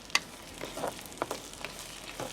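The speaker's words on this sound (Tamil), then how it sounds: "இப்போ நாங்கள் இதுக்குள்ளே கருவேப்பிலை போட்டுக்கொள்ளுவோம்" Curry leaves hit hot cooking oil for a bitter gourd stir-fry, giving a short burst of sharp crackles and pops over a faint steady sizzle, close and fairly quiet.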